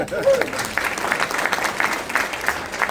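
Applause from an evening audience gathered in Kentucky and Tennessee, a dense steady patter of many hands clapping at close range for the full stretch, with a brief voice or cheer near the start.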